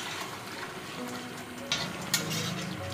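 Biryani being stirred and mixed in a pan, a quiet scraping and swishing with two brief louder clinks, no talk.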